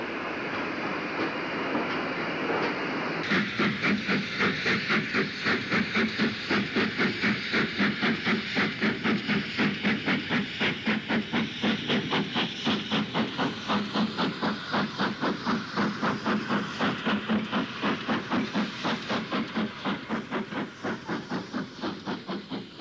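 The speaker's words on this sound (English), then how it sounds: "This is XGWR pannier tank 4683 on one such working with five coaches." Ex-GWR pannier tank steam locomotive 4683 pulls away with five coaches, hissing at first, then settling into a rapid, steady chuff with rhythmic beats close by and growing gradually fainter.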